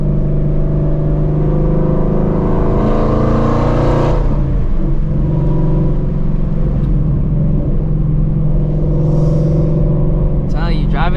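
A Shelby GT350 Mustang's engine roars loudly at night, rising and revving hard with backfire pops, heard close from inside the car with talk over it.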